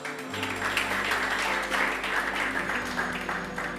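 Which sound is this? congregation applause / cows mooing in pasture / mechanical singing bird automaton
congregation applause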